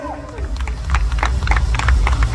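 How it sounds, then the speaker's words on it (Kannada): Audience clapping at a Kannada movie launch event, a dense burst of applause from a crowd building and holding loud for a couple of seconds. "ದೊಡ್ಡ ಚಪ್ಪಾಳೆ ಬರಲಿ."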